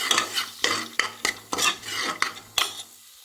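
Onions, turmeric powder and green beans are stirred in a pan for tamarind kuzhambu, heard as close rhythmic scrapes of a spoon against metal over a light sizzle, about six strokes.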